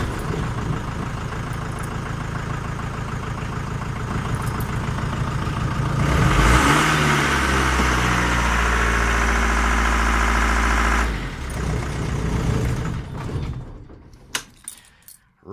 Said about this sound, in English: It's revving up because this cable is broken just here.